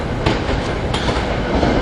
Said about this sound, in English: This is the train to the airport from West Trenton.